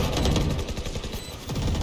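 Gunfire in Valorant, a short run of fast, close automatic shots heard over a busy game background.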